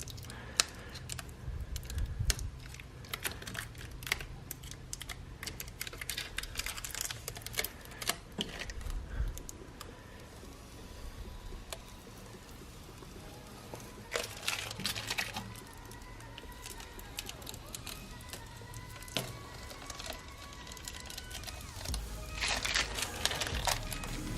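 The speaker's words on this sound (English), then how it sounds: "Now the fun bit, removing this blue protective sticker." Blue protective film peeled off a new Cusco strut brace in the engine bay of a Toyota JZX110 Mark II, giving a continuous close crackling rustle scattered with sharper crinkles and pops.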